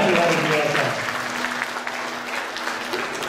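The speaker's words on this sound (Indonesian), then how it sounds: "Tepuk tangan untuk anak ini ya," Applause from an audience at a university faculty anniversary celebration, moderate clapping for a child carrying on at a steady level through the short stretch.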